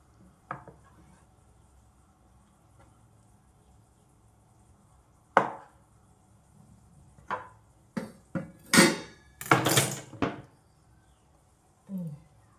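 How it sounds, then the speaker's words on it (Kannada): Knife chopping an onion on a board in a home kitchen, sounding as a scattered series of sharp close taps and knocks, some isolated and others bunched into quick bursts, with quiet room noise between strikes. "ಆನಿಯನ್ನ ಚಾಪ್ ಮಾಡ್ಕೋತೀನಿ"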